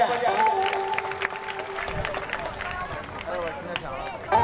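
A crowd at a Bhagwat katha claps loudly and steadily to honour an elderly woman, the dense clatter continuing throughout under a voice talking and background music.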